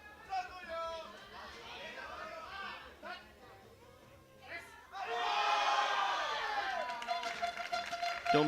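A crowd at a European Open Classic Powerlifting Championships shouting and cheering in support of a lifter, scattered voices building into a loud sustained roar with some clapping.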